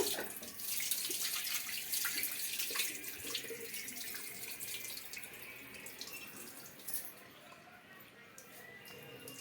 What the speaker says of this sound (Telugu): రైస్ అయితే నీళ్ళు వంపేసి మిక్సీకి అయితే వేస్తున్నానండి